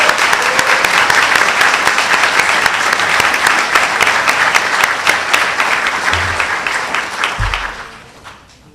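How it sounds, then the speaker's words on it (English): A large audience at a GED graduation ceremony claps for the graduating students, giving dense, sustained applause that carries on loudly for several seconds, then fades out near the end. "Please help me recognizing these students with a big round of applause"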